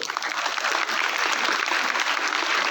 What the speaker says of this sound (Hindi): हमारे निदेशक और अध्यक्ष महोदय के लिए आप जरूर तालियां बजाएं